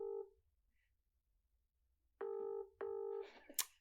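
A phone call rings out: a faint tone at the start, then two loud, steady electronic ringback tones close together, followed by brief rustling and a sharp high blip.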